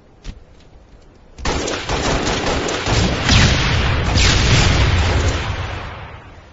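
Sniper rifle fire in an online competitive shooter match, a sharp onset followed by a sustained dense roar of gunfire and booms that stays loud and close for several seconds, with no talking.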